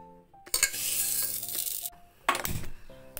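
A small cup of toor dal frying in a pan, stirred with a utensil that scrapes and clinks against the metal in two short bursts of dry rattling and sizzling.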